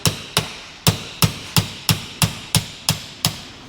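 A bolt hammered to drive a press-fit axle out of a 2025 Sidewinder Final Edition, with a bushing clamped in a vise: eleven sharp metallic hammer blows in a steady, even rhythm, loud and close.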